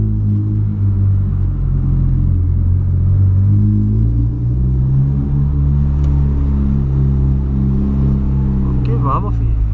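A tuned 2008 Volkswagen Polo Sedan drives through an underground parking garage at night, its engine a loud, constant low rumble echoing in the enclosed space, with someone talking over it.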